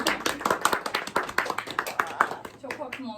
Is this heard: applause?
yes